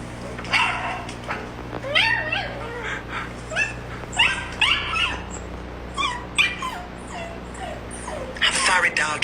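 A dog whimpers and yips in rising, wavering cries, repeated in short bursts, loud and close throughout.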